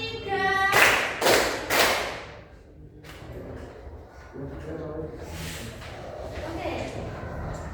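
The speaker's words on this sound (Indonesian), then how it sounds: "Tepuk 1, tepuk 1, tepuk 2, tepuk 3" A class of students at a coding and AI training session claps a counted rhythm pattern, with several sharp group claps near the start, then quieter clapping mixed with voices.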